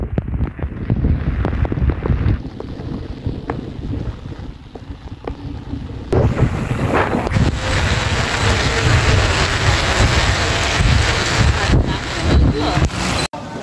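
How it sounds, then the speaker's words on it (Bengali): Heavy rain pours outdoors on flooded streets in Old Dhaka, a dense hiss that swells louder midway, mixed with gusty wind buffeting the microphone. "ঝুমসে বৃষ্টি হচ্ছে"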